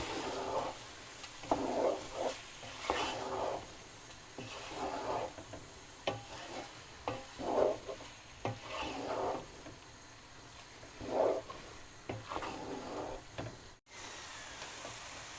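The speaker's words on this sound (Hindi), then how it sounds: "स्वीट कॉर्न डाल के हम इसको थोड़ा भून लेंगे।" Sweet corn and chicken keema fried and stirred in a pan, with intermittent scraping stirs over a low, steady sizzle, moderately close and with no voices.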